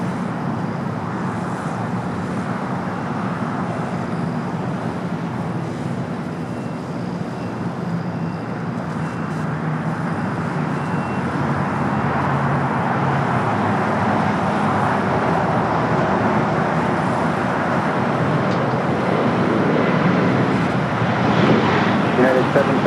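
Air Canada Airbus A220-300 taking off from the south side at LAX, a broad roar of jet engines that builds steadily over twenty seconds, with a voice talking over it.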